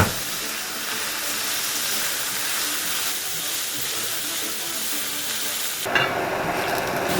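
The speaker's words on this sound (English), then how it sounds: "So I'll just put some oil in the pan. Just add our carrots and onions." Carrots and onions fry in oil in a pan, a continuous broadband sizzle that holds steady and close throughout, then drops and shifts in tone near the end.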